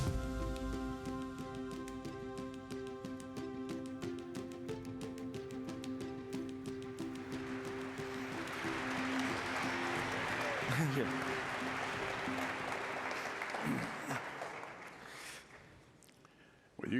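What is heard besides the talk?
audience applause welcoming two guests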